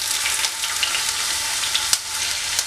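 Small pieces of chopped ginger frying in hot oil in a frying pan give a bright, dense crackling sizzle with scattered pops throughout. No one speaks.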